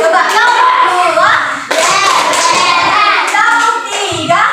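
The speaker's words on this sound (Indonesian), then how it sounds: "Coba tepuk 2." A class of children claps hands in quick patterned bursts, close and fairly loud, while children's voices and a teacher's voice are heard alongside.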